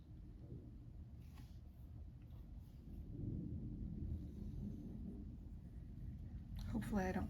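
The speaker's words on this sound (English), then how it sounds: "Right now it's not even raining, it's just thundering." Thunder from a thunderstorm with no rain falling, a low, sustained rumble that swells in the middle and stays fairly distant and soft, with a brief voice near the end.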